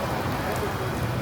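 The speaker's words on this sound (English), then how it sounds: "See the garden sprinkler right there doing its thing?" A garden sprinkler sprays water in a steady, fairly faint hiss like light rain, with a voice talking over it.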